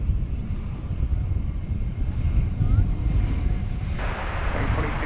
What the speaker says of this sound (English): Volaris Flight 1802 coming in from Guadalajara in Mexico